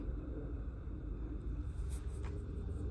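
An Ertiga taxi car drives through Mumbai with a low, continuous road rumble and faint engine drone, fairly quiet and with no voices.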